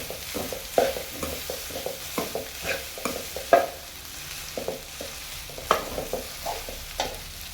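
Rice being stirred and mixed into chitranna in a pan, with repeated scraping spoon strokes and a soft sizzle, steady and close with no talking.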